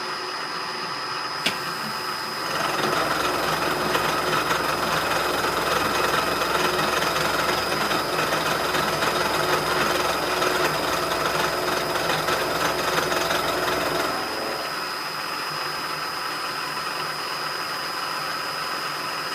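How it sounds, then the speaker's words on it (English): A 2-inch carbide insert face mill takes a light 15-thousandths cleanup cut across a metal block. A steady, dense machining roar runs for about twelve seconds, then drops back to a quieter motor hum. "Another anchor lube test with a 2-inch face mill."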